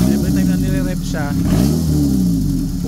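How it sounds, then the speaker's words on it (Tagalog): A Mitsubishi Lancer's 4G15 engine, vibrating on worn front mounts, is revved in short bursts, rising and falling in pitch over a steady idle while someone talks over it. "Kaya yung movement ng makina niya, yan, makikita ninyo sa every time na nire-rev siya,"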